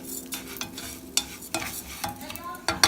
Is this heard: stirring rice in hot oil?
yes